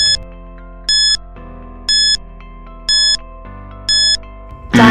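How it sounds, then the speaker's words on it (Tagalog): Quiz countdown timer: a steady electronic tone bed with a bright beep roughly once per second, five beeps in all, ending in a sharp burst as time runs out. "Timer starts"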